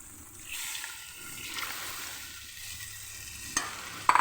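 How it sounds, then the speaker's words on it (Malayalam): Thin second coconut milk is poured into a pan of jaggery and medicinal herbs for a post-delivery lehyam, then stirred, giving a steady wet sizzle and swirling scrape with a louder clink near the end. "നമുക്ക് 2-ാം പാൽ ഒഴിക്കാം"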